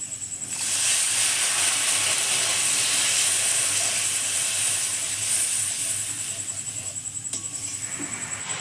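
Water poured into a pan of cooked spice paste sets off a loud, close, continuous steamy hiss and sizzle that holds for several seconds and slowly eases, with no voices.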